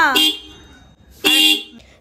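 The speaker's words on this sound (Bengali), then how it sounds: "দাদা হর্ন দিচ্ছে" A car horn blares twice at close range in two bright, harmonic blasts, each lasting about a third of a second, with a pause of about a second between them.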